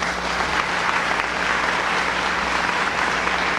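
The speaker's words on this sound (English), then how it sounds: "Give yourselves a round of applause." Graduation crowd applauding at the Cumberland County High School class of 2019 ceremony, a steady dense wash of clapping that stays loud and even throughout.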